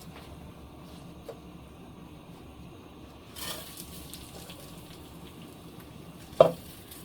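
Rice frying in oil in a pot for mutton biriyani pulao, a soft low sizzle with a brief scrape near the middle and a sharp clink of utensil near the end, no voices.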